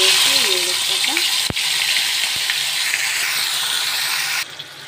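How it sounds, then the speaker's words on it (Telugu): Marinated fish frying in hot oil in a kadai, a steady loud hiss and spatter running throughout, with a voice speaking briefly over it near the start. "దీన్ని ఇప్పుడు మనం ఫ్రై చేసుకుందాం ఫ్రెండ్స్. ఒక కళాయి పెట్టుకుని అందులో ఆయిల్ వేసి వేడెక్కాక"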